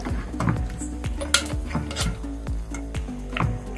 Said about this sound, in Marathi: आता एक मॅशरने आपण याला छान सगळी मॅश करून घेऊया